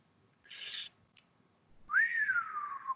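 A person whistles an imitation of a quail call: a short rising-falling whistled note, then a longer sliding whistle that rises and tapers off, close and clear against a quiet indoor background.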